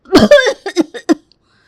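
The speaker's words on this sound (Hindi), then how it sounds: "अरे अरे देखो फिर से खांसी आ गई" A woman with a cold from getting soaked in the rain coughs in a home setting: two strong, throaty bursts followed by three shorter coughs, close and loud, then quiet.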